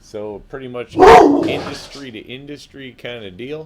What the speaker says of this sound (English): Pardon the dog there.